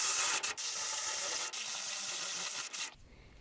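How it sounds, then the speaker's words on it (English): Cutting fluid sprayed from a can onto a dull drill bit in a metal shop, a few loud hissing spray bursts broken by brief gaps and ending abruptly in quiet. "So a little bit of cutting fluid should solve it for a little while."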